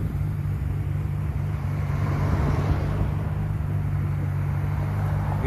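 A Toyota Supra pulls away from a petrol station on a Toronto street, its engine and tyre noise a steady, fairly loud rumble with a constant low hum and no voices.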